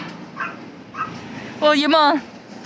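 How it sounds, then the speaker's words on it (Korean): A small pet dog barks indoors, giving a couple of short faint yips followed by a louder, drawn-out whining bark burst near the microphone, then quiet room tone. "얘는 어딜 보고 짖는 거야?"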